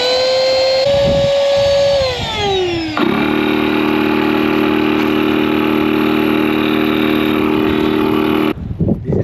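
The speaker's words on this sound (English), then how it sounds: "Now we're gonna put the pump." A VOGMA electric SUP paddle board pump runs loud and close with a steady mechanical whine that drops in pitch as it shifts modes, then holds an even drone before cutting off abruptly near the end.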